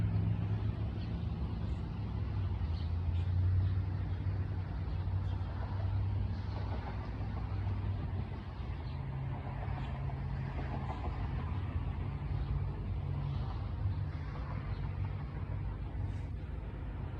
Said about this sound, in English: Just traffic.